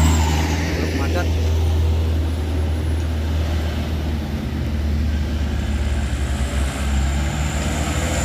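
Steady low engine rumble of heavy trucks idling and creeping in congested traffic, continuous throughout, with occasional hiss and clatter.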